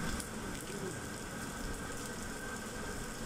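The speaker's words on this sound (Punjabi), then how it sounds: "ਇੱਥੇ ਪੂਰੀ ਬਾਰਿਸ਼ ਜਿੰਨੀ ਹੋਣੀ ਸੀ ਉੰਨੀ ਹੋ ਗਈ" Steady rain falls in a Punjab village, a constant even wash of hiss that runs unbroken throughout with no voices.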